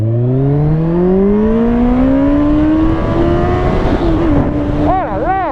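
A Kawasaki ZZR 1400 sport motorcycle of about 200 hp accelerates hard on the road, its engine pitch climbing steadily through a gear, loud and close, with wind roar and a warbling note near the end.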